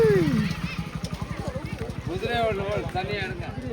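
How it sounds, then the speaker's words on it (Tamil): A horse's hooves clatter in a fast, steady patter at a village Mattu Pongal celebration in Tamil Nadu, close and loud, with festival crowd voices talking over the rhythm. "குதிரை வருது பாருங்க"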